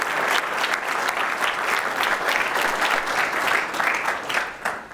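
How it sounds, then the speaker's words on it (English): Steady applause from a crowd at a village State of the Village meeting, a dense wash of clapping hands that holds throughout without pause. "Let's give a round of applause for our village president, Mike Jenny."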